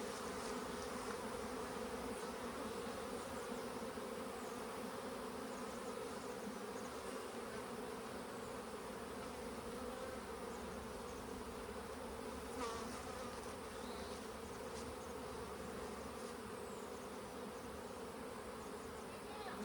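A dense, continuous drone of many honeybees buzzing close by at the hive, steady and low-pitched throughout.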